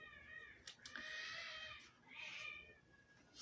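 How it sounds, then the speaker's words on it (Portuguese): A kitten meows several times in short, high, wavering cries, close by and fairly soft, with small pauses between calls and no talk over them. "Um gatinho."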